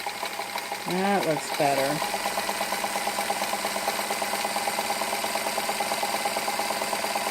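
A Kenmore model 52 sewing machine runs a wide satin stitch at full speed, a steady fast mechanical hum and rattle that carries through the whole clip, with a brief spoken remark near the start.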